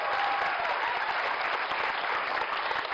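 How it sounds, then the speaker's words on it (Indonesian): Sustained applause from a studio audience at an Indonesian television talk show, a dense, steady clapping that holds at an even level for the full three seconds without a break. "Tepuk tangan dong."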